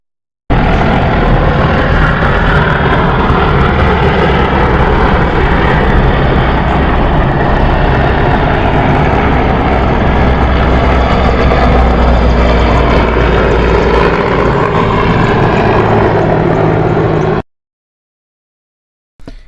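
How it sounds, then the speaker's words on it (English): Russian Mi-28, Mi-24 and Mi-8 military helicopters flying en route to Kherson, a loud, steady rotor and engine roar that holds unbroken for about seventeen seconds before cutting off abruptly, with no voices. "So here's some video footage of those helicopters en route up to Kherson."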